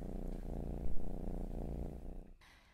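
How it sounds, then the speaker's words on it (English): A cat purrs up close with a steady, rumbling low vibration and a rhythmic pulse from its breathing, continuous for most of the clip before cutting off abruptly near the end. "listening to cat purring sounds can reduce stress levels and promote relaxation in humans"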